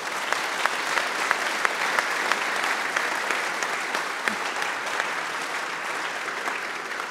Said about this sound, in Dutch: Graag een applaus voor alle vier de sprekers.